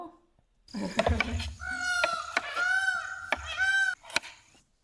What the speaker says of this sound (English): I think it's peacock.